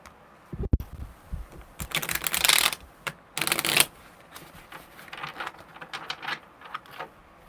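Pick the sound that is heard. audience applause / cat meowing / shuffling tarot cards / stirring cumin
shuffling tarot cards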